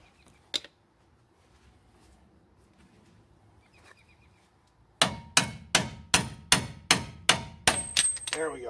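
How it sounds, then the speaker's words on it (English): After a quiet stretch with a single clank, a hammer pounds steadily on a 2015 Silverado wheel bearing while a pry bar holds outward pressure, a rapid run of loud, ringing metallic strikes close by. "Outward pressure with the pry bar, hammer on the top."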